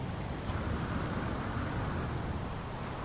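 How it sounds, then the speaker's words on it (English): Rain pours steadily in the video game No Man's Sky, a dense, even wash of noise with a low rumbling undertone, constant throughout and free of talk. "Oh, there's rain. Imagine that."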